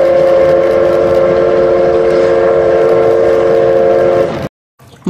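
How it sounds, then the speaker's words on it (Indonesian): A loud, steady whistle tone from a Thomas the Tank Engine toy train holds for several seconds over rumbling electronic noise, then cuts off abruptly. "Wow, kereta Thomas."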